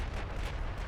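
A 19-inch naval shell strikes a ship in the naval warship game Ultimate Admiral Dreadnoughts, a single deep, muffled boom lasting about a second and heard alone at moderate loudness.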